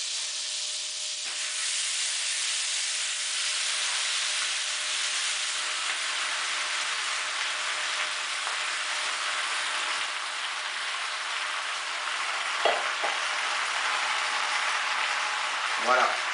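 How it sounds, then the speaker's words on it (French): Spinach pan-fried and seared in a hot pan, releasing its water, gives a steady loud hiss of sizzling throughout, with a few faint clinks near the end. "on va les faire poêler, on va les faire saisir, on va les faire recracher leur jus"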